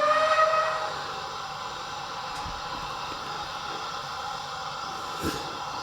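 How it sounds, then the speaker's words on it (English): A DCC model train decoder sounds a steady steam whistle that holds for the whole span, loud at first and then level, with a faint hiss under it. "I'll make the horn sound, or whistle"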